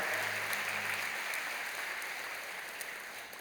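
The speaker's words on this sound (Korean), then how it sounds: "여러분께 박수로 환영하시지요." Church congregation at a Sunday worship service clapping in welcome, a soft, distant wash of applause that holds steadily and slowly fades, with a low hum underneath early on.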